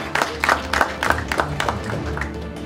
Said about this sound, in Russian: Первые аплодисменты новому руководителю